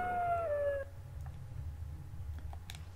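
Spirit wolves in the video game Dragon Age: Origins let out a loud, drawn-out howl that falls in pitch and fades after about a second, followed by low rumbling game ambience and faint scattered effects.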